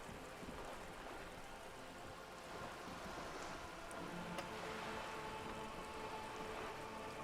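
Steady rain falls in the video game Disco Elysium, a faint continuous patter and hiss running evenly throughout with no voices.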